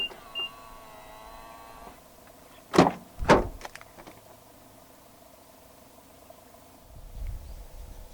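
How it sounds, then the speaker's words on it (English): A 2022 Mitsubishi Xpander unlocks from its keyless door-handle button. A soft electronic tone sounds first, then two quick, loud mechanical clunks from the door locks in close succession, then a faint low rumble in otherwise quiet surroundings. "And to unlock the car, just press the black button again."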